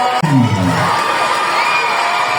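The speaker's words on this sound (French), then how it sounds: "Est-ce que vous pouvez applaudir?" School students cheer and shout together after a sharp start, a loud, bright crowd roar with children's voices that holds steady and then thins slightly.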